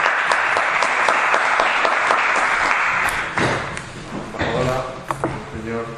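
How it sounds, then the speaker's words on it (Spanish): Applause for an ambassador at an embassy ceremony, a loud burst of many hands clapping for about three seconds, then fading as voices and scattered claps take over. "pues le damos un aplauso"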